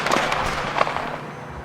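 A sharp gunshot in the video game Red Dead Redemption 2 cracks out, followed by a second fainter bang and a short echoing tail.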